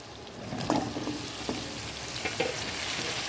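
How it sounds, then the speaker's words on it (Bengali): Pieces of potato land in a pan of frying pointed gourd, giving a few soft knocks and scrapes over a dense, continuous sizzle of hot oil. "দেখো পটলটা ভাজা হয়ে গেছে এবার এর মধ্যে আলুটা দিয়ে দেবো"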